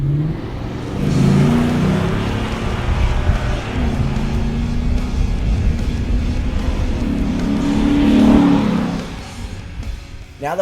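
A 2010-or-later Ford Raptor with a 6.2L V8 and BBK performance upgrades including a cold air intake drives around the block, its deep engine rumble swelling on acceleration twice and easing off between, loud and steady throughout.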